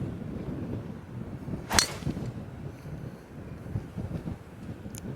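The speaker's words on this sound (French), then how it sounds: "il y a moyen vraiment de mettre un gros drive, on va attendre que les gens passent et puis boum" A golf driver strikes a ball off the tee on the windy Royal Portrush links course, a single sharp crack partway through, with gusting wind noise throughout.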